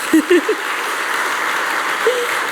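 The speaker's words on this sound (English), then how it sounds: "We also want to give a round of applause for our judges" Audience applause for the judges at an awards celebration, a steady wash of clapping filling the room throughout, with a few brief voice sounds near the start and again near the end.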